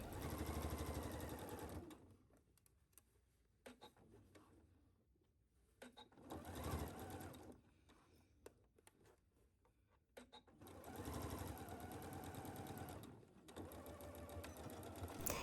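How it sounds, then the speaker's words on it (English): A sewing machine sews shoulder seams on outer garment pieces at a 5/8 seam allowance, with three sustained whirring runs separated by quieter gaps of handling fabric, close and clear with no voices. "we are going to attach the shoulder seams at our outer pieces, and we are going to sew this at 5/8 at our machine"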